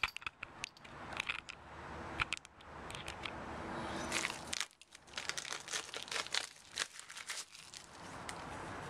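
StopTech front brake pads for a 2011 VW GTI being unpacked, with close crinkling and tearing of packaging, rustling cardboard and small clinks of the pads, irregular and fairly quiet with no talk.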